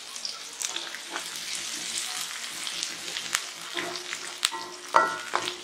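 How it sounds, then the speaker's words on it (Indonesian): Shallots and garlic sizzle steadily as they sauté in a hot pan, with occasional stirring clicks and scrapes over a continuous frying hiss, no voices present. "Pertama kita masukin dulu bawang merah sama bawang putihnya. Kita tumis sampai layu."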